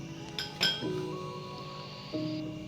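Spoon clinks against a bowl as flour and cornflour are added for veg Manchurian, a few quick bright taps followed by ringing tones, close and quiet, no talking.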